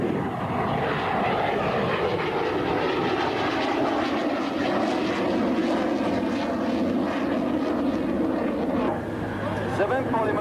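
SEPECAT Jaguar jets at a 1993 air show at Cambrai air base roar overhead in a sustained, dense engine rush that swells and fades slightly, loud and continuous with no talk.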